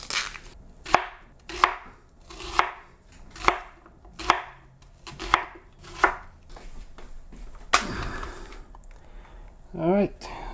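Half a red onion is chopped in a food processor in short, repeated pulses, about a dozen sharp bursts at an even rhythm, close and loud, with a brief whir near the end.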